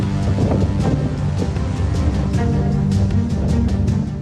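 Strong gusting winds of Cyclone Biparjoy sweep through Morbi, Gujarat, making a loud, continuous roar with buffeting rumble against the microphone and no pauses.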